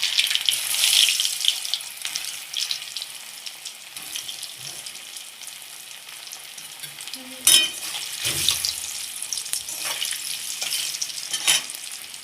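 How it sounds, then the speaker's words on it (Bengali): Boiled potato pieces, cut small, fry in oil in a home kitchen, giving a steady close hiss and crackle with occasional stirring clinks and a brief louder scrape midway. "এবার তেলে ভেজে নেব ওই তেলে"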